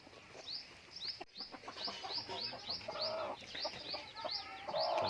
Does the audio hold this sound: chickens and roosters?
yes